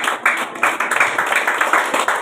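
Church congregation clapping in worship, a dense, fairly loud burst of many hands with uneven rhythmic pulses, continuing steadily for a couple of seconds with no speech over it.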